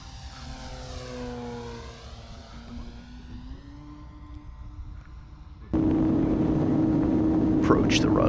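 An RC trainer airplane flies in to land, its propeller whine rising and falling in pitch as it circles nearby, then a louder burst of noise and voices takes over near the end.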